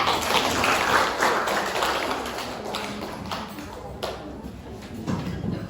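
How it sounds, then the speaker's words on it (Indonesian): Classroom applause for Kak Nadia during a micro-teaching lesson, a dense patter of clapping hands that fades gradually over several seconds, with faint voices mixed in. "kita kasih aplaus buat Kak Nadia"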